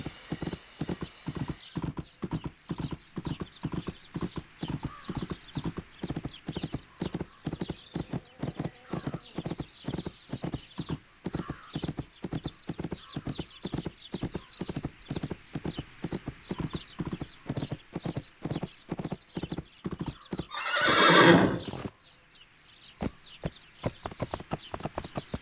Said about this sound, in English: I should change to a gallop and give it a try.